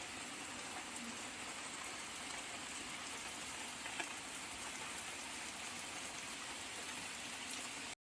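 Heavy rain pours steadily outside, a dense, even hiss of drops that holds unbroken for several seconds and then cuts off abruptly.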